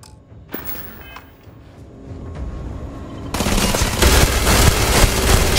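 Rapid automatic gunfire from the Revenant gun in the game Crimson Fleet, a quiet start giving way to a loud, dense burst of shots that holds steady to the end.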